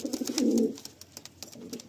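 Madrasi pigeons kept for sale in Baruipur give a short, low, throaty coo up close, followed by a fainter second coo amid light background rustle.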